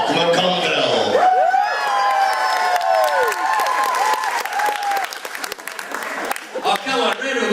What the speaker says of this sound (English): round of applause for Ivan Richards and his dancing